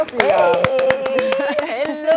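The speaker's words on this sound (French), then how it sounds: "On va l'applaudir quand même." A studio audience applauds guest Sophie Aïta on a French evening show, with sharp, scattered hand claps heard close alongside a voice speaking over them.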